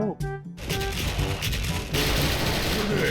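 Sharp pistol shots ring out in a rapid burst in a video game, loud and close, with game sound effects and a brief voice at the start.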